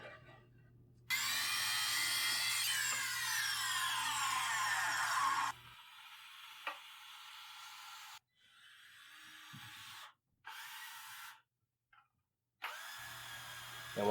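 A power saw cuts wood pieces to length for a workbench build: a loud whining cut about four seconds long, then several shorter bursts of saw noise separated by brief silences.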